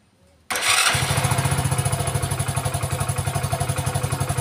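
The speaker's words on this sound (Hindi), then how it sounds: "और अपन बाइक को स्टार्ट करेंगे।" A BS6 motorcycle engine cranks and catches after a quiet half second, then settles into a loud, close, steady idle with a fast regular thumping beat.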